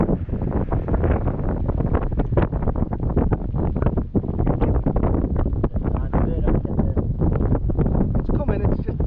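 Strong coastal wind buffets the microphone in loud, continuous gusts, with a deep roar and rushing noise filling the whole clip.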